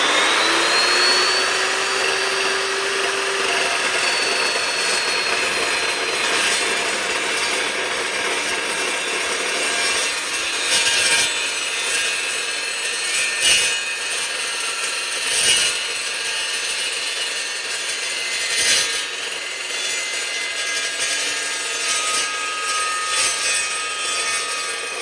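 An Evolution S380 CPS circular saw cuts through a workpiece with a steady, loud, continuous whine that holds for the whole stretch, rising and dipping slightly as the blade works through the material.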